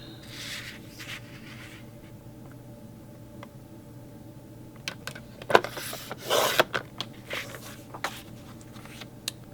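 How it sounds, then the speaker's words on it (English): Paper is trimmed into small 3 by 4 and 6 mats. Quiet rasping and scraping cuts come close by, with a few sharper clicks and short bursts of louder rubbing as the blade moves through the sheets. "we're going to trim the remaining half into 3 4 by 6 mats"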